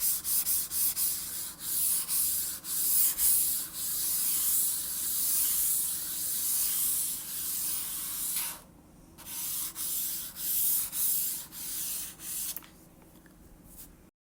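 Computer mouse fitted with Jade Air skates, a month worn, sliding back and forth on a mousepad, giving a steady close scratchy hiss in repeated strokes with brief pauses.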